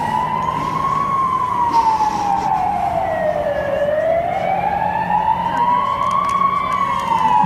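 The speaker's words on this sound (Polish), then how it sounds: "O, jedzie straż." A professional fire engine passes close by with its wailing siren rising and falling in slow sweeps over the rumble of its engine, loud and continuous, in a Polish town at Łowicz.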